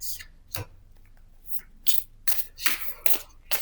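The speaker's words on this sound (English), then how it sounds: "We'll do one more shuffle and just see if there's anything that wants to jump out." Tarot cards being shuffled by hand: a series of soft, papery riffling bursts at an irregular rhythm, close and fairly quiet, with no talking.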